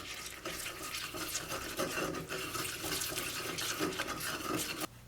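A marinade of pepper, sugar, fish sauce, light soy sauce and vegetable oil is stirred in a bowl, giving a brisk, continuous wet scraping and swishing sound up close for about five seconds.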